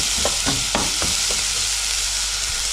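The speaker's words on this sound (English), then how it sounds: "we then put in the leek. And we'll gently fry them up as well." Onions, garlic and leek frying in a pan, a loud steady sizzle close up with several brief stirring scrapes early on, no talking.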